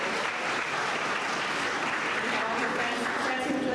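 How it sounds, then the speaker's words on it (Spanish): A city council chamber audience applauds a public servant's 26 years of service, dense continuous clapping held at an even, fairly loud level throughout with no talk over it. "vamos a darle un gran aplauso"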